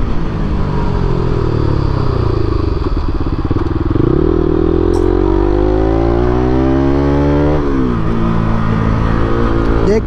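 A motorcycle ridden at full throttle along a narrow road, its engine loud and close with a droning, rising whine that climbs through revs, dips at a gear change near the middle, then climbs again, with wind buffeting underneath.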